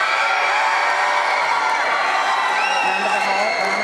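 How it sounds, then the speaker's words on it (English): A large graduation crowd cheers and whoops with scattered applause, a dense, continuous roar of many voices filling the whole stretch. "Round of applause."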